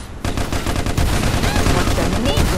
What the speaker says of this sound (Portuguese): Mela, dando headshot de rifle.